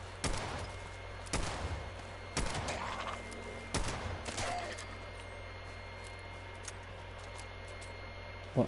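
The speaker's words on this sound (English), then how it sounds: "You've got to be careful of the firecracker bush because it will go off in firecrackers." Firecracker bush in the Fallout 76 video game bursting into firecrackers, with four sharp, loud cracking bursts about a second apart, followed by quiet background and one last small pop at the end.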